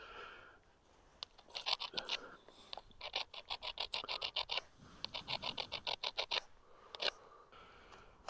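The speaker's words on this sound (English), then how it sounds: "the reason I rubbed it was to set up a few little sort of fracture lines in there, and then it's easier to flake" A stone rubbed to set up fracture lines before flaking: quiet, close scraping strokes in quick rhythmic bursts, with short pauses between runs of gritty rasping.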